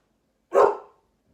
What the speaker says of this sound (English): Guard dog's on duty again.